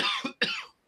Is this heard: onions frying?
no